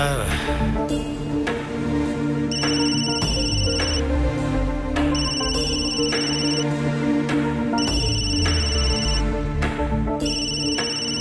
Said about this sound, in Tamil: பாத்தியாமா, போன அடிச்சுக்கிட்டே இருக்க.